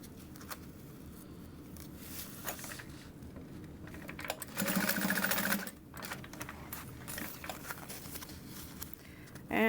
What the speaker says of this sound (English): I just continue sewing and then trim like the jump thread essentially